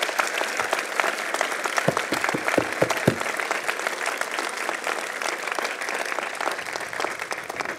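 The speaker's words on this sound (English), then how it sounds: "How about we start with a round of applause to warm us up for our graduates?" A large audience at a university convocation for master's and PhD graduates gives a loud, continuous round of applause, with a few heavier close claps early on and no talking.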